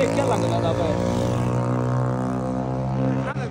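A loud motorcycle engine drones close by with a sustained, even hum that stays steady rather than clearly passing, while people talk over it.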